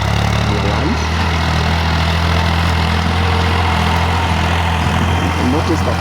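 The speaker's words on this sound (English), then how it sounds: "Notice that the tractor started plowing from the center, from the middle part" A tractor engine runs while ploughing a sunny, dry field, holding a loud, steady low drone with a constant hum throughout and no clear voices over it.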